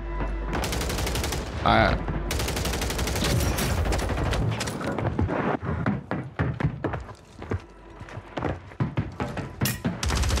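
Rapid gunfire in a Call of Duty Warzone match in Urzikstan, loud bursts and single shots in quick succession, with players talking over the shooting.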